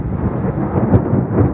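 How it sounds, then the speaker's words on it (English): A summer storm gives loud, deep, rolling thunder with rain underneath, a continuous rumble with no speech. "And there's the thunder."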